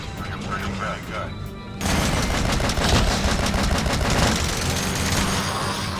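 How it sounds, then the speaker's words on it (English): Anti-materiel rifle fire in Metal Gear Solid V: The Phantom Pain during an FOB skulls attack, a burst of dense, loud gunfire and crashing impacts after a quieter opening, with a voice talking over the action. "I'm gonna try and take out the other 2 with my anti-material rifle"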